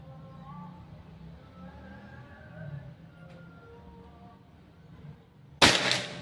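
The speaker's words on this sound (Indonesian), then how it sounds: "Tembakan ketiga" A single sharp crack from a Pajero Gun Gen 6 air rifle fired with 9.5-grain HS pellets during an accuracy test, arriving near the end after quiet background murmur and low voices.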